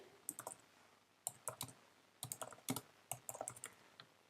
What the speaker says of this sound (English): then you can just start to type in, let's say, self-care guide